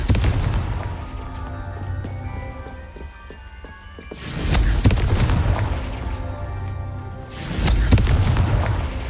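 Confringo fire spell going off in the video game Hogwarts Legacy: two deep, rumbling booms a few seconds apart, each swelling loudly and fading into a crackling tail, with faint metallic tones between them.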